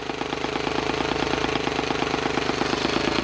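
A Muravey motor scooter engine running close by, a rapid, even putter with a rough knocking pulse that holds steady and loud throughout, with no voices.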